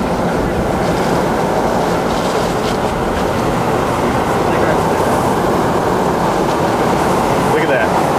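A tornado with multiple vortices near Hiawatha, Kansas tears through trees in the open, giving a loud, steady roar of wind and rushing debris noise that fills the whole stretch.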